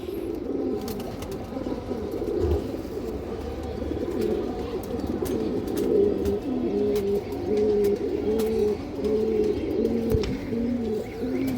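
A Hurricane breed female pigeon coos in repeated low, throaty phrases, close and clear, over a soft background of other birds and faint clicks.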